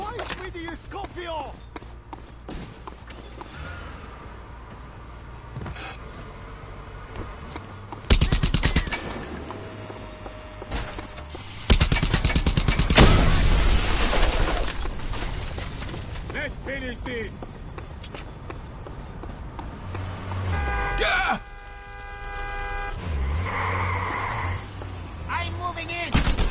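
Gunfire in the open-world video game Just Cause 2, with bursts of loud automatic shots and blasts mixed among game music and shouted voices that carry on throughout the scene.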